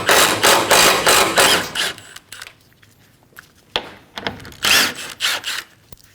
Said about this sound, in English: Using a T30 bit, remove the 3 screws for the grill trim.